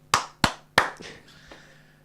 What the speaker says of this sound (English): It was more like a let's move on clap.